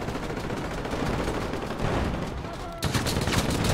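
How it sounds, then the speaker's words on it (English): Sustained automatic machine gun fire in the video game GTA V with the LSPDFR police mod: dense, rapid, continuous bursts, loud and close, with a sharper volley near the end. "That's a machine gun."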